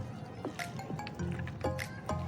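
Raw beef is mixed by hand in its own juices for dum pukht. The close, wet squelches and slaps come in an irregular rhythm, with faint drips between them.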